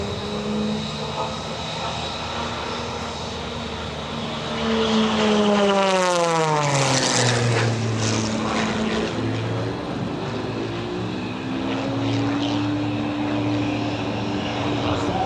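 A propeller airplane flying aerobatics at an airshow roars close overhead, its engine pitch sweeping sharply down then climbing again as it maneuvers, loud and continuous throughout.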